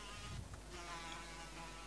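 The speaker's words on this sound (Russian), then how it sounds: "Реально вот, муха. Она жужжит еще так." A fly buzzes in the video game Minecraft, a thin, faint whine holding steady under quiet game ambience with no talking.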